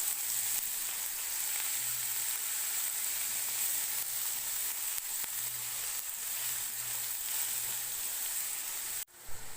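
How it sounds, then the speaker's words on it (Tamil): Chopped onions sauté in hot oil for a curd chutney, giving a steady, close sizzle and crackle that runs throughout without a break. "இதையும் போட்டு நல்லா இந்த எண்ணெயிலேயே நல்லா வதங்கட்டும்."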